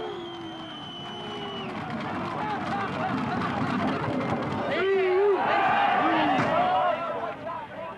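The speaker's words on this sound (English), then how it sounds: "policemen bang and clap their shields in appreciation" Police riot shields banged and clapped in applause during the 1984 Orgreave miners' strike clash, a dense irregular clatter under crowd noise and shouting, swelling louder in the second half.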